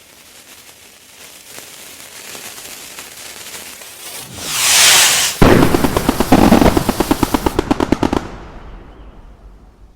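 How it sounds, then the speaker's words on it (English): Fireworks go off in the Roblox game Bloxburg: a rising whoosh, then a loud burst and a fast, rhythmic string of crackling pops that stops abruptly, all close and without voices. "This is when we tested out fireworks."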